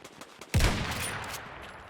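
A single loud gunshot in a first-person shooter, a sharp blast followed by a lingering echoing decay over quiet background noise.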